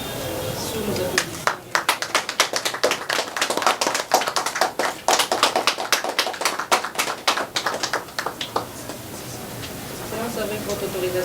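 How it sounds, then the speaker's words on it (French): Audience clapping at an official signing ceremony attended by a minister, a dense flurry of sharp hand claps building quickly after a brief lead-in and holding steady for several seconds before dropping back to room noise and murmuring. "Sous nos applaudissements"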